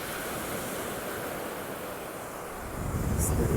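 Ocean surf on Sanibel beach in Florida, a steady broadband wash of waves with some wind noise, swelling louder near the end, with no talking.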